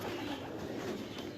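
Pigeons on a rooftop in Islamabad give soft low coos over a steady hum of background noise, faint and brief.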